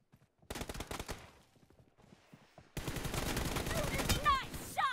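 Gunfire in the mobile battle royale game PUBG Mobile comes in bursts of rapid shots. A denser, louder volley follows partway through, with voices talking over the action.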